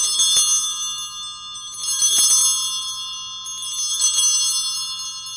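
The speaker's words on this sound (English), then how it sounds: "a gentle ringing of the bells" Altar bells ring out during Mass in a church, three clear bursts of bright metallic chiming at a steady, gentle rhythm, each shimmering ring fading before the next.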